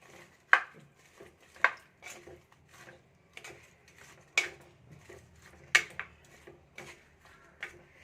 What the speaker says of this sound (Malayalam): നോക്കട്ടെ, ഇളക്കി നോക്കട്ടെ വെള്ളത്തിൻ്റെ അളവ്